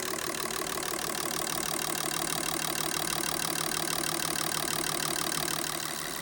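Fuel injectors pulsing at idle on a flow test bench, a fast, even mechanical ticking and buzzing that holds steady throughout, close and moderately loud, with no voices.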